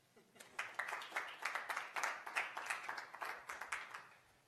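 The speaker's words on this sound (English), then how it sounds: "But you can applaud first." Conference audience applauding a talk on new skills for a new era, a burst of clapping that rises quickly, holds as a fairly close patter of many hands for several seconds, then tapers off.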